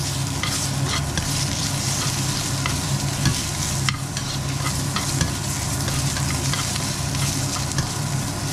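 Squid fries on an electric stove while being stirred around the pan, a loud continuous sizzle broken by repeated scraping and clattering stir strokes, close up, with no voices.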